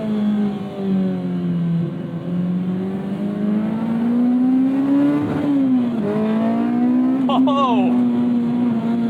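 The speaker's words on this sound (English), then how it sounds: "you can tell this is a proper Type R engine" A K20A Type R engine in an Acura Integra revs loudly and steadily, its pitch climbing and dipping through the rev range with a brief sharp rise near the end, and a short voice is heard over it.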